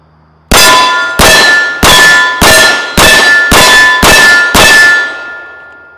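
A Ruger 1911 pistol fires Federal Hydra-Shok rounds in a quick string of about eight loud, sharp shots, each followed by a ringing metallic tail, with no voices.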